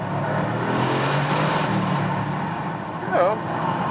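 A 2020 Bentley Continental GT with a V8 engine hums at moderate volume while driving and rises briefly as it downshifts. Someone talks over the engine.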